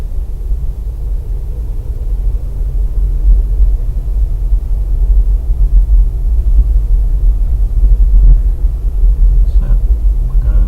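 A car pulls away under light throttle, its engine a low, steady rumble heard from inside the cabin, building slightly in loudness over the span with no talking.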